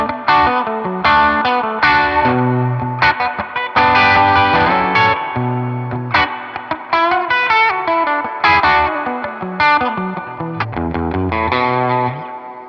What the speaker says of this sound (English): I'll turn that off and turn up the springs. I got one spring on my Tyler, one spring on my Princeton. So real dual spring reverb.